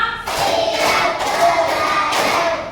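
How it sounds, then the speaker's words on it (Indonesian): Schoolchildren in a classroom clap together in a counted rhythm, dense bursts of clapping across a couple of seconds, near and loud. "tepuk 5,"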